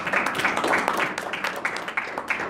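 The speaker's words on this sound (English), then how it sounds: "Let's give him a big round of applause." Applause from an audience at a student-versus-professor debate, a dense patter of hand claps lasting a few seconds, moderately loud and steady.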